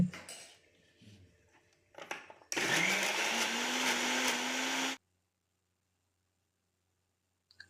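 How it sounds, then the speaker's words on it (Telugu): A mixer grinder blending coconut chutney, preceded by a few clinks of handling, then a loud steady whirring motor for about two and a half seconds that stops abruptly, followed by near silence. "మనం మిక్సీ పట్టడం"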